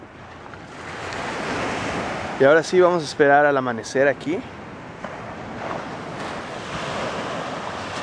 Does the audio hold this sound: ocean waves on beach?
yes